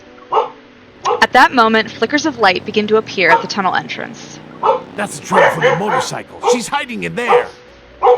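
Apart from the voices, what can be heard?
dogs barking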